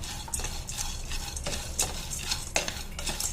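Almonds and sunflower seeds are stirred and roasted together in a pan. Near, dry rattling scrapes and light clicks come in uneven bursts over a faint sizzle, with no talk.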